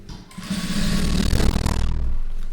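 A sewing machine runs a line of stitching along a garment's lining in a short, steady, close whirring burst that rises quickly and holds.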